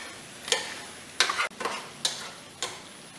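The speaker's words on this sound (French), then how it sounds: "Je mets les boulettes et je remue." Chicken meatballs being stirred in a frying pan, four distinct scraping strokes spaced across the clip over a faint sizzle, close and fairly quiet, with no voices.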